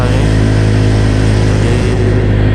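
Motorcycle engine running loud and steady while riding, a constant close droning hum with slight fluctuations and no talking.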